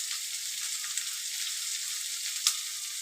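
Cauliflower (gobi) pieces fry in a hot pan with a continuous bright sizzle of oil, close and steady, with a couple of sharper crackling pops and no talking.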